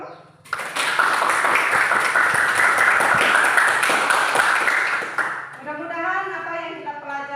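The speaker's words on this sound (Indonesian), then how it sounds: "untuk pertemuan kita hari ini kita kasih aplaus dulu" A high school class in an Indonesian classroom bursts into loud, sustained applause lasting several seconds, which then fades as a voice begins speaking.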